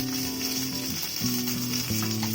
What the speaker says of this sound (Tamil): எண்ணெய் காஞ்சிருச்சு. இதுலேயே கடுகும் போட்டுக்கலாம், மிளகாயும் போட்டுக்கலாம்.